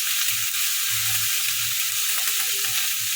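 Vegetables frying in a pan with salt, turmeric and cumin powder, a steady close sizzle with soft intermittent stirring scrapes, no talking.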